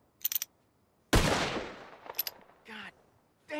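Gunfire in the video game Red Dead Redemption 2: a single sharp, loud shot with a decaying echo, set among brief quieter sounds and short bits of game voice.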